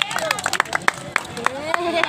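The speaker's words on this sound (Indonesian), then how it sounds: "Tepuk tangan." Spectators clapping at an outdoor village volleyball match during an anniversary celebration, a handful of distinct, fairly close claps in a loose rhythm amid chatter, cheering and crowd babble.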